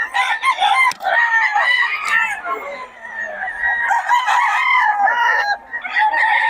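Several roosters crowing and clucking over one another at a chicken market in Bocaue, loud and close, with overlapping calls filling the whole stretch and faint talk beneath.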